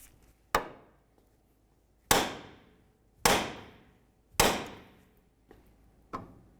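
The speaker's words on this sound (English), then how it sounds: "let's continue on with our hammer, and we're going to give this a couple loving bonks just along this area" Five sharp metallic hammer blows on the steering knuckle of a 2002-2006 Honda CR-V, spaced about a second apart, each a crisp close strike with a brief ringing decay, in an otherwise quiet garage.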